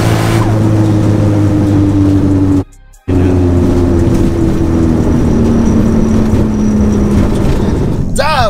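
A 900 hp MK4 Toyota Supra and a 760 hp MK5 GR Supra drag racing, with loud, sustained engine roar and gear-change pitch shifts, a brief drop-out midway, and a rising whine near the end.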